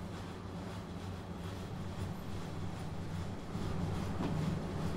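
A train on the Arosa line between Chur and Arosa in Train Sim World 2 rumbles and clatters steadily over the track, a continuous low rolling roar with faint rhythmic clacks running throughout.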